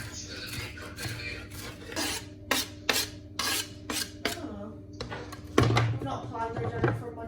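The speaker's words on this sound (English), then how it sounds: "I'm going to chop it up really finely and then throw it in there" Coriander being chopped finely with a knife on a board, a series of sharp close chops in uneven bursts over a low steady hum, with a few louder knocks near the end.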